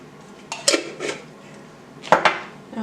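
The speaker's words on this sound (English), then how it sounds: "Now very gently mix these dry ingredients with the oats." Dry ingredients and oats are stirred together in a bowl, a utensil scraping and knocking against the dish in a few short, close clatters separated by pauses.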